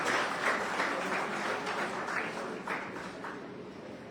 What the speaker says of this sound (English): thanks for all the claps